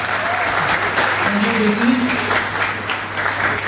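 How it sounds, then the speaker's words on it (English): A hall audience at a JCI Senators Night gala claps in a dense, sustained round of applause. Someone speaks briefly over the clapping. "she deserves a round of applause from the floor"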